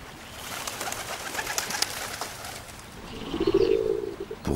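Carrier pigeons call amid a busy outdoor bird chorus, with a louder, low cooing phrase rising near the end over steady background chirps and wing flutters.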